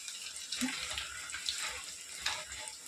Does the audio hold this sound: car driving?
no